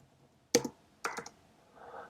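Code being typed on a computer keyboard: two close, crisp bursts of rapid key clicks, then a softer, duller flurry of taps in a quiet room.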